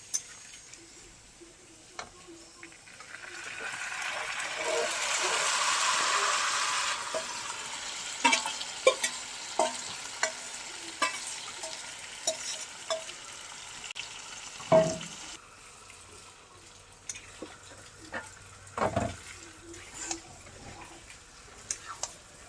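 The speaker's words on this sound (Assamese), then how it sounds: "মই এতিয়া ইয়াত মেৰিনেট কৰি ৰখা মাংসখিনি দি দিম" Marinated mutton hits a pan of browned onions with a loud rush of sizzling, then a spatula stirs and scrapes the frying meat in close, irregular knocks against the pan.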